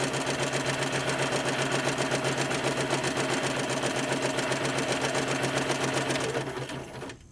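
A Spiegel 60609 sewing machine stitching gathering rows on fabric runs with a fast, steady mechanical whir and needle clatter at close range, then slows and stops near the end.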